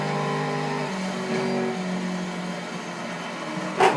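A car lapping the Bugatti circuit at Le Mans, its engine droning steadily and shifting pitch as it accelerates, with a brief sharper burst near the end.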